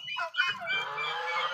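A guinea fowl on a poultry farm gives a short, raspy, honking call of a couple of harsh bursts, close and clear.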